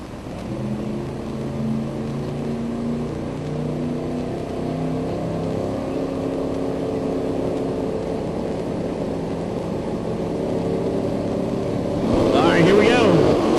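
A supercharged 1992 Ford Mustang with a 400 cubic inch engine at a drag racing event brings out distant drawn-out engine tones under an announcer's talk, then swells into a louder roaring launch near the end.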